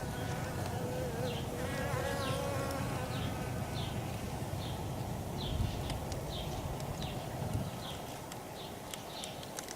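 Honeybees buzz close by in a steady drone, individual insects zipping past, with a soft hum of outdoor background noise.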